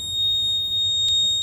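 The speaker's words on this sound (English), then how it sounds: "the red LED will light up, buzzer will be triggered" A buzzer on a metal detector in a smart school system project, set off by metal, gives a steady, piercing electronic tone that holds unbroken and close for over a second, with a brief click near the end.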